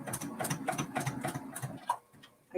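Sewing machine stitching a quilt seam on a mini-quilt, a quiet rapid rhythmic whirring and ticking of the needle running steadily, then slowing and stopping near the end.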